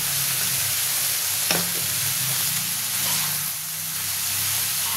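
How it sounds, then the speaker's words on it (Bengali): Ground cumin, coriander powder and salt, along with slit green chillies, are stirred in a hot frying pan, with a steady close sizzle and hiss and a few scraping strokes of the spoon. "মশলাগুলো ভালো করে মিশিয়ে নেব"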